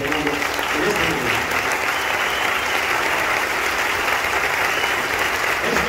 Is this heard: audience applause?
yes